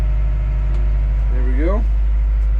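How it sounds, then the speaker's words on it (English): A D51 bulldozer's diesel engine drones loud and close with a deep steady rumble while the blade is lowered, a brief rising whine appearing midway, and a voice is heard over the engine. "So now we'll put the blade down."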